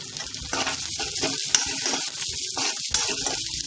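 Onion and curry leaves sautéing in a pan for Maharashtrian stuffed brinjal: a continuous close sizzle with repeated stirring scrapes and clatters, no voices.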